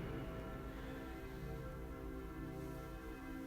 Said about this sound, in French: Peut-être entendez-vous les cloches